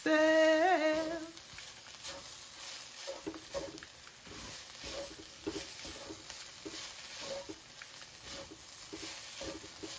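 Gumbo ingredients sizzling in a pot with an okra roux, a steady low fry and crackle with soft stirring scrapes, preceded by a brief tonal sound at the start.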